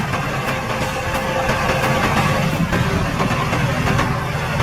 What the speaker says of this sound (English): The Kobelco and the Yukon are tearing up the ground for some smooth sailing ahead.